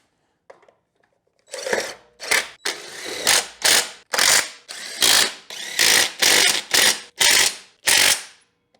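Ratchet wrench tightening 6mm bolts on an upturned Honda HR215HXA Masters Series lawn mower: a run of about a dozen loud, close, rapid clicking bursts in steady rhythm, with no talk.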